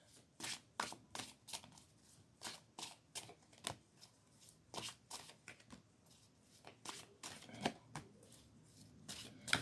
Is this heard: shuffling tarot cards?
yes